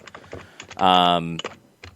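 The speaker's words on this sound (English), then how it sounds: "as John pounds on his keyboard" Loud, rapid keystrokes hammered on a computer keyboard, a dense burst of clattering typing in the middle with faint talk and lighter taps before and after.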